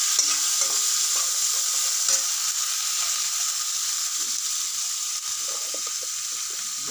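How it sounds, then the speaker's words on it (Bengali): Chopped onions fry in hot oil, giving a steady close sizzle and crackle that holds at an even loudness throughout, with faint clinks of stirring and no speech. "পেঁয়াজ কুচো দিয়ে একটু এটাকে ফ্রাই করে নিলাম।"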